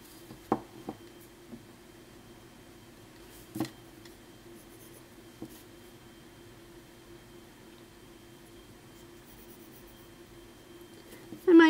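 A pencil sketches on paper, making faint, soft scratching strokes close by against a quiet room hum, with a few scattered taps.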